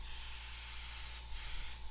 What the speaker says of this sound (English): I'm spraying it on the actual mask.